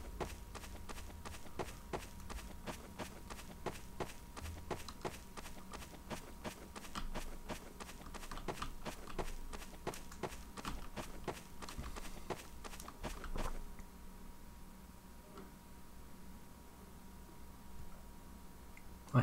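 Rapid footsteps of an approaching player in a battle-royale style video game, a steady quick patter of steps for most of the stretch, then fading quieter near the end, fairly faint with no talking.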